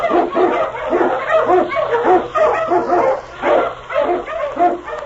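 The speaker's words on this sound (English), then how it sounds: "King, the swiftest, strongest of Eskimo lead dogs, blazes the trail through storm and snow for Sergeant Preston" A sled dog, an Eskimo lead dog on a snowy Yukon trail in a 1943 radio drama, barks and yips in a quick, loud, continuous string of close, lo-fi bursts.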